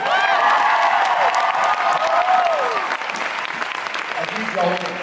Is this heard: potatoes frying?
no